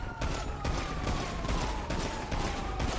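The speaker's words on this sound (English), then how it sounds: "Shots fired." Rapid gunfire from a video game prison transport break rattles in dense, repeated bursts over a continuous loud bed, with no talking.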